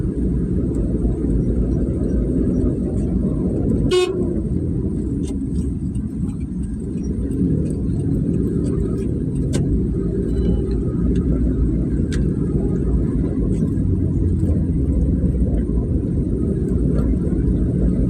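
A car drives along a long road out of Zamboanga City. A constant loud low engine and road rumble is heard from inside the vehicle, with one sharp click partway through and no clear horn.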